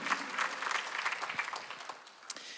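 Korean church congregation clapping together during a Sunday worship service, a fairly quiet wash of many hands in the sanctuary, steady and diffuse with a few sharper claps near the end.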